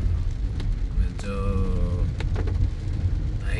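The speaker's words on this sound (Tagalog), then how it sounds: "Kanina pa po ito umuulan at alas 3 na ho ng hapon." Rain falls steadily over downtown Davao City on an afternoon, a continuous wash of noise with passing traffic sounds and brief voices mixed in.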